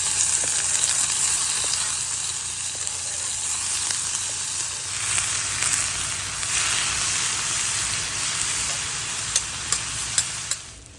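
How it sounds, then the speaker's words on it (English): Onion and peppers sauté in a little olive oil at a lakeside campsite, a steady close sizzle and crackle that runs throughout, with a few sharp clicks near the end. "Time to start sauteing the veggies. I'm just doing it in a little bit of olive oil."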